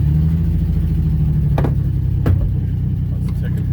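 A turbocharged Chevrolet Silverado truck with a failing, overheated transmission holds its engine at redline, a loud, steady, close drone with a brief sharp change in tone partway through; a voice may be faintly present beneath it.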